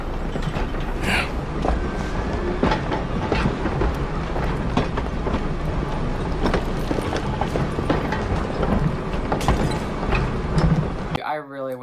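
Train rolling along in Red Dead Redemption, a dense steady rumble with clanking and creaking mechanical knocks throughout, loud and continuous, with a brief different sound at the very end.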